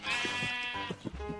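Sheep in the Minecraft video game bleating, several short wavering bleats in quick succession, clear and close with no talk over them.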